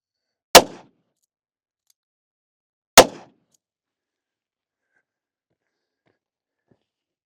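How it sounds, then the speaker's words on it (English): Two loud, sharp .357 Magnum gunshots from Hornady Backcountry Defense ammunition fired into wet newspaper, each a single crack with a short decay, spaced about two and a half seconds apart in otherwise silent surroundings. "2 shots coming right up."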